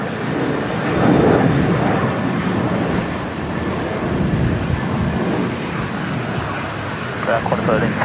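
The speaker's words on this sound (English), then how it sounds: "now we're seeing Qantas 616 just arriving" A Qantas airliner arriving at Brisbane airport gives off a steady, broad jet roar that swells slightly early on and holds throughout, with a voice speaking over it.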